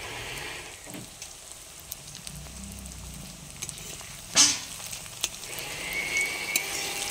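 Onions fry in a pan with a soft, steady sizzle and crackle, close by but quiet, marked by a few light clinks and one sharper utensil knock near the middle.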